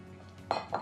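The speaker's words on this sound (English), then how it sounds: "Stir that in." Matzo meal being stirred into a mixture in a bowl, heard as two quick clinks of a utensil against the dish over a faint background.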